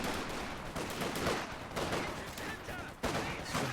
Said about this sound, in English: Just some really good gun fights in Jibber's favour